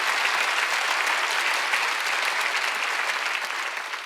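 Steady applause from a church congregation at a Sunday worship service, a dense even wash of clapping hands that holds throughout and eases slightly at the end, with no voices over it.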